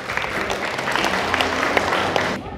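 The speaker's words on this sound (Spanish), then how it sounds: "den un fuerte aplauso pues porque les gustó" A children's theatre audience breaks into steady, loud applause, a dense continuous clatter of many hands that cuts off near the end.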